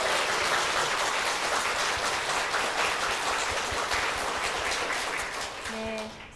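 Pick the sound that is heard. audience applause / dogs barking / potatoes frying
audience applause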